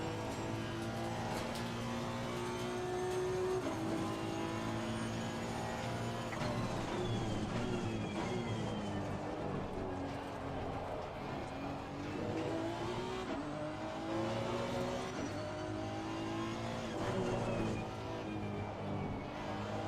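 A Honda race car in the game Assetto Corsa Competizione laps Laguna Seca, its engine revving up and down through gear changes with brief tyre squeal, steady and close throughout.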